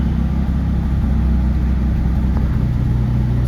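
A 1972 BMW 3.0 CS engine running just after a cold start, with a loud, close, steady low rumble and a slightly high idle throughout.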